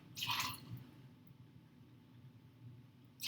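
Vanilla vodka and Goldschlager poured quickly into a glass, a short liquid splash near the start and another brief burst at the end, with a faint low background in between.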